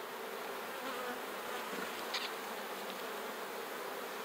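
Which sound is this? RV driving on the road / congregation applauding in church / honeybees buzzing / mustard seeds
honeybees buzzing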